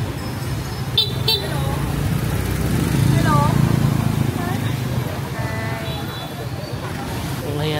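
Motorcycle passing through a busy street night market with street-food stalls, engine noise rising and fading amid constant crowd chatter and a couple of short horn toots, with voices talking nearby.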